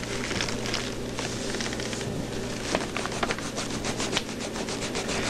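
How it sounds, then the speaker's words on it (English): A rare vintage green eraser rubs on paper in close, continuous rasping strokes with a brisk back-and-forth rhythm and no talking. "Time to watch me use the green eraser."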